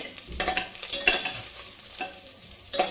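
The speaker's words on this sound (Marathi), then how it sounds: "वांगे आपल्याला परतून घ्यायचे" Brinjals for a stuffed brinjal curry are sautéed and stirred in a pan: bursts of scraping and sizzling recur every half second or so over a constant close frying hiss.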